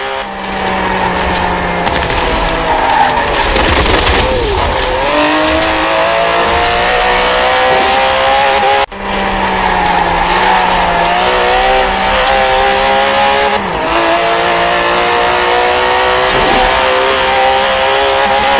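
Aston Martin DB11 with a 5.2-litre twin-turbo V12 driven in Forza Horizon 4, its engine note rising steadily through the gears in long loud sweeps with brief dips at gear changes, continuous and up close with no talk.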